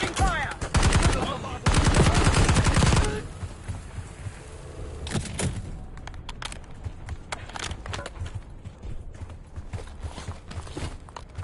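Loud, close automatic gunfire rattles in rapid bursts during a Call of Duty: Black Ops 6 campaign fight, followed by quieter scattered shots and mechanical clatter.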